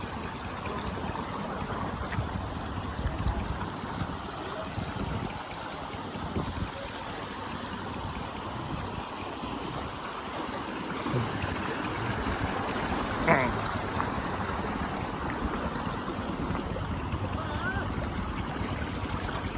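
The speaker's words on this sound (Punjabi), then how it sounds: "ਨਦੀ ਪਾਰ ਕਰਦੇ ਹੋਏ" Continuous rushing water of a mountain river in Uttarakhand, broad and steady, flowing close by, with no clear voices over it.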